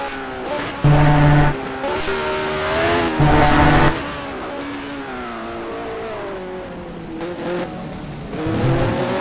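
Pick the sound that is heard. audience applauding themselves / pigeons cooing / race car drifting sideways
race car drifting sideways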